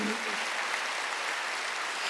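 Church congregation at a Sunday worship service applauding together, a steady, full wash of clapping that fills the hall without any speech.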